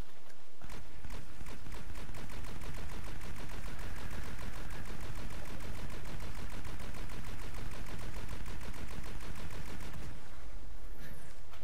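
A full magazine fired from the Aphelion weapon in the video game Planetside 2, heard as a loud, rapid, evenly spaced stream of shots lasting about ten seconds before it stops.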